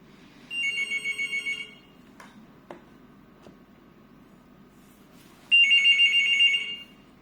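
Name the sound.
landline telephone ringer ringing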